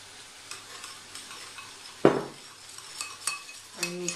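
A spoon stirs a dressing of olive oil and vinegar in a bowl, making soft scraping swirls, one sharp clink partway through, and a few faint taps near the end, with no voices.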